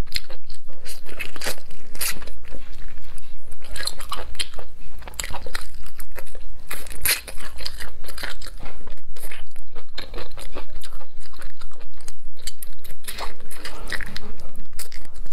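Close, loud crunching and chewing while eating spicy biryani, with repeated bites and crisp crackles running steadily through the whole stretch, briefly pausing now and then.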